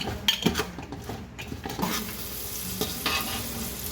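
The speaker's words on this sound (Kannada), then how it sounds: "ಇದು ಈರುಳ್ಳಿ ಸ್ವಲ್ಪ ಫ್ರೈ ಆಗಿದೆ ನೋಡಿ, ಇಷ್ಟು ಸಾಫ್ಟ್ ಆಗಬೇಕು" Onions salted and sweetened with sugar softening as they fry in a pan for a puffed-rice tempering dish, with a spoon stirring and scraping against the metal over a steady close sizzle.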